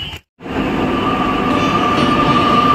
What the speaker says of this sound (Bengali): আমাদের ট্রেন চলে এসছে বালাসোর থেকে শতাব্দী এক্সপ্রেস।